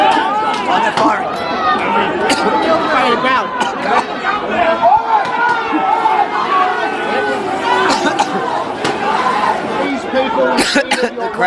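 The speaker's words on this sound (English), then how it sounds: "The crowd is now starting to disperse." Protest crowd in Australia breaking up, dense overlapping chatter and shouting voices close by, with occasional coughs and scattered louder calls rising over a steady babble.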